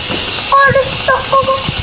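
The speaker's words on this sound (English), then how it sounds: "Let's just let the steam out." Steam hissing steadily out of a rice pot, a loud continuous hiss close by, with a few brief whistling tones and light clatter over it.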